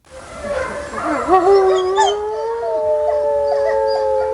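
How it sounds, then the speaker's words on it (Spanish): Wolf howling: a long, rising then steady tonal howl with harmonics, joined by overlapping higher howls and yips from a pack, sustained and fairly close throughout. "Escuchamos un sonido reconocible, muy reconocible, diría yo, que es el del lobo."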